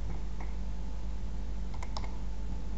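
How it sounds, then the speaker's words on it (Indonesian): A computer mouse clicks a few times in quick succession, sharp and close, over a steady low hum with no talk. "Seperti ini jika diklik dengan menggunakan mouse."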